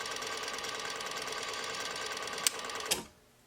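A Juki DNU-1541S industrial sewing machine winds a bobbin with a steady, close mechanical whir and a couple of sharp clicks near the end, then the motor cuts out and leaves near silence.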